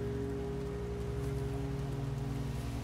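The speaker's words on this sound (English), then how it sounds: "And it's now raining." Steady rain falls in the video game Montague's Mount, a constant even hiss of drops on surfaces with a low droning hum underneath and no talking.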